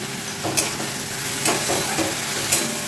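Spice paste with coriander powder being sautéed and stirred in a pan over medium-low heat for Bengali potoler dorma, a steady soft sizzle broken by a few scraping stirs of the spoon.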